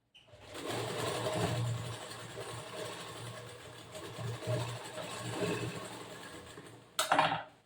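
A sewing machine stitches a boat neck blouse in a steady close whir with slight variations in speed, then stops, followed by a short clatter near the end.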